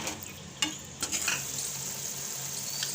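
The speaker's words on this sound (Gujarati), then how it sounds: "હવે આપણે આને ઘડીક સડવા દેવાનું છે, 2 થી 3 મિનિટ આપણે સડવા દેવું।" Moringa leaf curry simmering in a pan after half a bowl of water is added, giving a steady soft sizzle and bubbling hiss with a few faint stirring clinks near the start.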